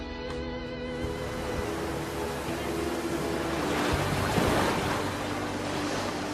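Wind and breaking waves along the North Sea coast of Heligoland Bay, a steady broadband roar of surf and gusting air that swells slightly toward the middle, with a faint low tonal hum underneath.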